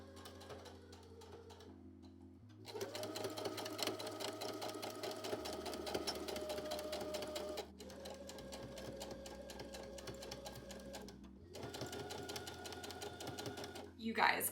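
A sewing machine stitches a sequined outfit in long, loud whirring runs that stop briefly between bursts, with a speaking voice over it.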